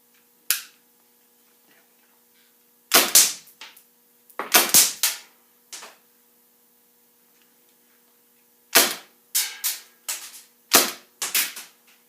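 An HFC Mac 11 airsoft gun fires on semi-auto in sharp, loud snapping shots, first singly and then in quick irregular clusters, with brief silences between them.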